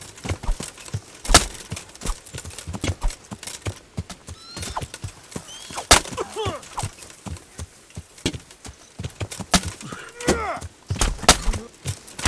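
Horse hooves clip-clop steadily in the medieval game Kingdom Come: Deliverance, with irregular thuds, neighing and whinnying, and occasional wooden knocks mixed in.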